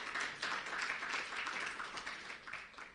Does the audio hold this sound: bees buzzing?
no